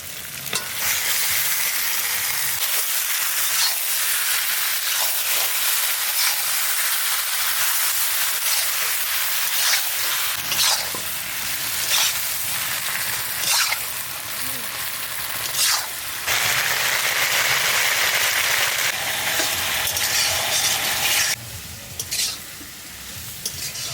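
Quail meat sizzles and fries in a small kadai over already-browned onions, village style, while a spoon stirs it with steady scraping; the loud frying hiss runs throughout.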